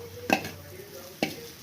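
Poha flakes with turmeric are stirred in a frying pan, giving two brief scraping clatters of a spoon against the pan over a faint sizzle, close and fairly quiet.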